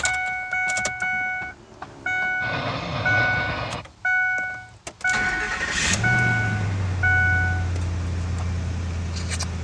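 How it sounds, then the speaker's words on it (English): Several electronic chimes beep in short bursts, then a 2005 Ford F-150 pickup's engine cranks on a newly replaced starter, catches and settles into a steady low idle. "the truck should start up how it did before. Alright, first startup."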